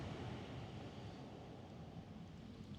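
Sea waves wash onto a beach at night where someone is fishing, a continuous low, soft surf roar with some wind noise and no voices.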